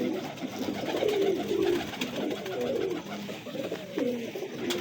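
Pigeons cooing close by, a pair of male birds kept as prized fancy pigeons, giving repeated soft throaty coos in overlapping rolling phrases that run steadily with no pause.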